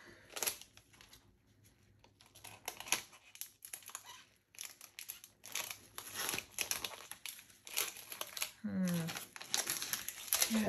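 Packing tape rips off a tape gun in several bursts of crinkly, tearing noise, with plastic crumpling and handling sounds between pulls at close range.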